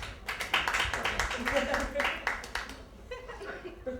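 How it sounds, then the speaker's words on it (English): Audience members at a stand-up comedy show clap, with scattered hand claps and some chuckling and laughter, a loose, uneven burst that tapers off as voices carry on. "Married people by a round of applause"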